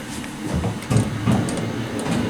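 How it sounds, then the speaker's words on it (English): An old San Jose apartment elevator's door and retiring cam clunk and rumble, a steady mechanical grind with heavier thuds near the middle, close and fairly loud. "Ooh, listen to that door or the retiring cam."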